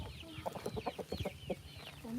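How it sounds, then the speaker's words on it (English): Silkie chickens cluck in a steady, close run of short calls, with a rooster-like note and faint background farmyard sound. "And there's one hen on the nest in here"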